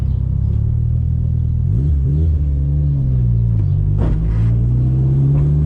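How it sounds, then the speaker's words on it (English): A Nissan S15 Silvia engine rumbles steadily up close, with a brief fluttering whoosh from the turbo as the revs change, and no talking. "I don't know if you guys can hear that turbo flutter, but it sounds pretty cool."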